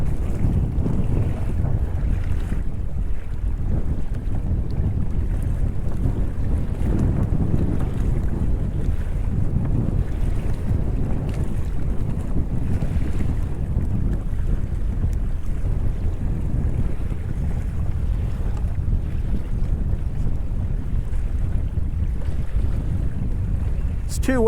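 Strong wind rushes across the mic while a Hobie Outback sails in stiff breeze and choppy water, a continuous loud roar with buffeting gusts and water wash running steadily throughout.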